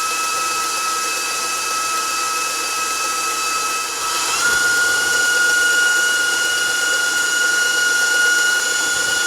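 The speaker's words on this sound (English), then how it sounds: "So we'll allow it to beat just for a few minutes at high speed, high to medium speed" An electric mixer beats cream puff batter at high speed, a steady loud mechanical whine with a sustained motor tone that shifts slightly in pitch midway and runs continuously throughout.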